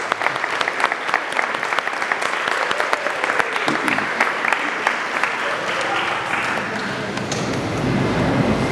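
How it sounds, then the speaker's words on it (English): An audience claps for a presenter at a parish State of the Parish meeting, sustained dense applause over the whole stretch, with a voice briefly audible under it. "we can clap for Rob, of course"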